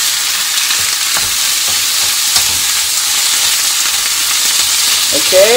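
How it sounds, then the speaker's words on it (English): Green vegetables stir-frying in a hot pan: a loud, constant hissing sizzle with occasional stirring knocks, and a brief voice near the end. "Just stir fry that as is."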